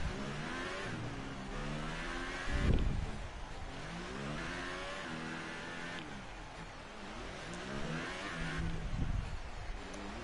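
Formula 1 car engine in F1 2018 at Yas Marina, a steady high revving whine with shifting harmonics as the car accelerates and lifts, near and continuous, with brief louder bursts.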